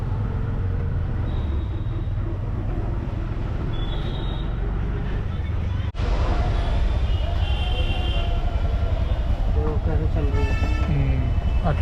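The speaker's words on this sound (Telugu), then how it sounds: "అట్లుంటుంది ట్రాఫిక్ జామ్ మన దగ్గర." Car horns honk through a Delhi traffic jam near the Connaught Place circle, several short toots rising over a constant roar of engines and road noise.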